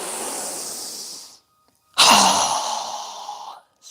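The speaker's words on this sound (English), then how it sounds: "exhale with a strong breath through our mouth as we quickly lower our arms and hands down" Two strong breaths pushed out through the mouth during a yoga breathing exercise, each a loud, close, breathy rush lasting over a second, separated by a short silence.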